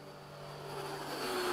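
Model airplanes flying in formation at low throttle give a steady, fairly faint engine drone that slowly swells as they draw nearer, with no voices.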